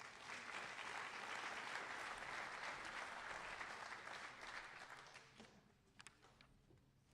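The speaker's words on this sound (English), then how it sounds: "Let's give them one more round of applause." An audience at a high school agricultural program spring banquet gives a sustained round of applause that fades out over about five seconds, leaving a few scattered taps and stray claps.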